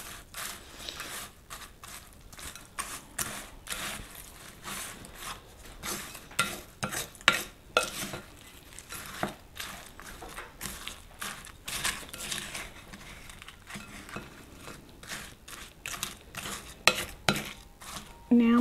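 Cracker salad with tomato and green onions mixed in a bowl, a long stretch of irregular scraping and clinking utensil strokes, fairly quiet and close, with no talking.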